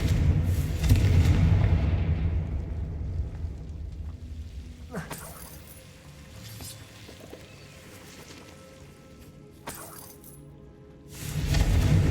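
Spell explosions from Bombarda and Confringo in Hogwarts Legacy, a loud booming blast at the start with sharp cracking bursts around five and ten seconds and another heavy burst at the end, under game ambience and some speech.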